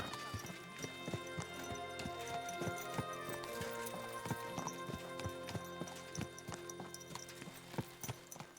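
A horse's hooves clip-clop at a slow, steady walk over a sustained musical backdrop in Kingdom Come: Deliverance II, the hoofbeats regular and clear.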